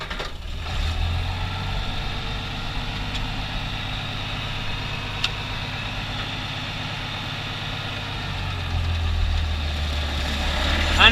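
A Farmall 826 tractor engine runs at a steady low idle, a constant deep rumble that swells slightly at the start and end, heard up close with no talking.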